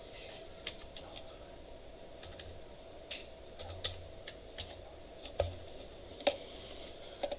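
Intermittent keystrokes on a computer keyboard during a web database programming lecture, soft irregular taps over a steady room hum, growing a little louder toward the end.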